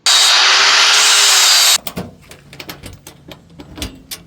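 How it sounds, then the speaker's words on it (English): An angle grinder shrieks loudly for under two seconds against a stainless mudflap bracket near the muffler of a 2024 RAM dually, then stops, leaving scattered metallic clinks and handling noises. "I'm going to grind on this"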